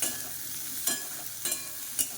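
A steady, soft sizzle of spices frying in a pan, with a few brief louder scrapes as they are stirred; no talking.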